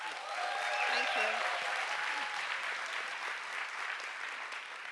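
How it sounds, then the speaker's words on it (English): Warm applause from the audience at a science slam in Berlin greets researcher Maryam, a dense, sustained clapping that peaks early, then eases slightly, with faint voices underneath. "Warm applause for Maryam."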